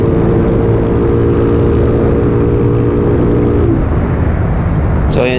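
Rusi Macho 150 motorcycle with a stock engine fitted with a 30mm carburetor, revving loud and close in a steady sustained drone that fades off near the end.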